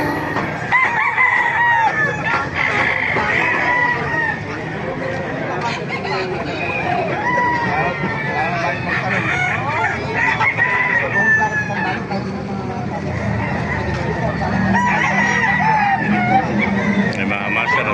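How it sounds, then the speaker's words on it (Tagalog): Many chickens and roosters crow and cluck at a crowded poultry market in Baliuag, Bulacan, overlapping crows rising from all sides over a steady hubbub of people talking. "Napakaraming manok na yun dumarating po mga kamaster."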